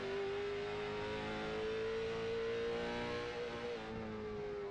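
Late model race car engine in the iRacing sim at Langley holding a steady, smooth throttle, a loud continuous drone that rises and dips slightly in pitch, heard alone without talk.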